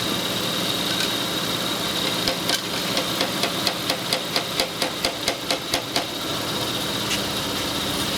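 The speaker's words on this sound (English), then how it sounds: "now I'm not lined up and it's misfiring, it's running bad" A Toyota/Lexus 3.0-liter VVT engine running rough and misfiring, with a steady loud engine drone and a regular train of sharp ticking knocks through the middle of the clip. Nobody speaks.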